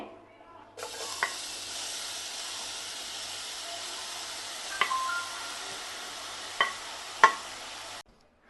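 Grated beetroot fries in a pan for halwa with a steady, soft hiss that holds at an even level. A few sharp clinks of a spoon against the pan stand out near the end.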